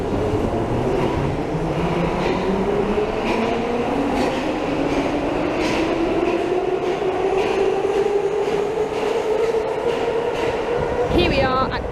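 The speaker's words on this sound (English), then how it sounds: "Here is our tram now. It is a tram number 4 heading to Székelymanter." Budapest tram number 4 pulling in at Corvin Negyed, a loud steady rumble with a rising whine as it rolls through the stop, and a brief squeal near the end.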